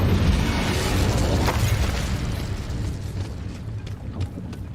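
Incendio fire spell cast in Hogwarts Legacy on the Nintendo Switch, a loud rumbling fiery burst that roars at the start and then slowly fades into a lingering crackle, with no speech.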